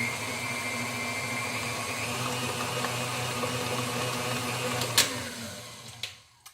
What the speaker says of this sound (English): So we're going to mix that in, give it a nice harvest smell.